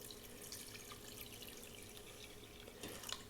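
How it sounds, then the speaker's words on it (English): Water pours steadily into a cooking pot set for boiling, a soft, continuous splashing trickle with light droplet sounds, fairly quiet and close, with no talk over it. "So I'm going to go ahead and pour the water in, just enough to cover, because we're going to boil this."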